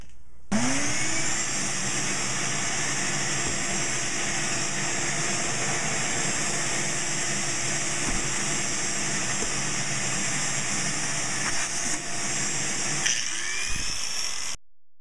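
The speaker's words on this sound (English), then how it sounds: "now I'm going to start cutting out the shape that I want the handle to be." A power tool whines continuously as it cuts a cured epoxy Micarta knife handle to shape, a steady high-pitched motor tone starting abruptly and stopping near the end.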